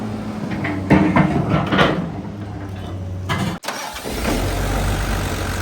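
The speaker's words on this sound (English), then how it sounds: "that's a Mitsubishi engine right there" The Mitsubishi diesel engine of a Kobelco SK210 excavator rumbles steadily at close range, with a few clanks early on and a brief dropout before the low idle resumes.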